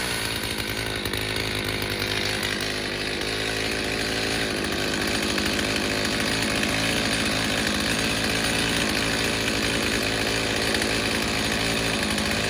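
A rebuilt Stihl 029 chainsaw with a 45mm cylinder and an eighteen-inch bar and chain runs continuously and loudly up close, a constant steady engine roar with no breaks.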